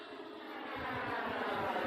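Freewing turbine-converted RC jet on landing approach, a steady distant jet whine and rumble that builds slightly in loudness, with no talk.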